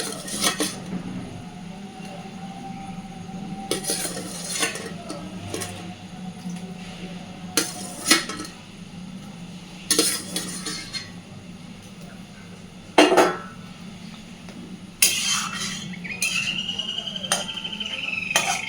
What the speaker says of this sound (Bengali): এইবার এর মধ্যে ভেজে রাখা সমস্ত বড়াগুলো দিয়ে দেব, দিয়ে মিনিট 2-3 আরও ভালোভাবে